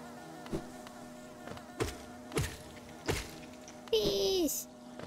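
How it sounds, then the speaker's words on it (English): Insect buzzing from bees in the video game Hollow Knight: a few short, separate buzzing bursts, then a longer rising whine over a steady background hum. "bees below."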